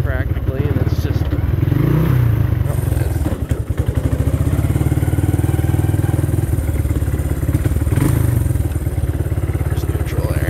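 A 1983 Kawasaki Prairie 250 three-wheeler idles close up with a steady, throbbing low putter that continues without a break, while someone talks over the engine noise.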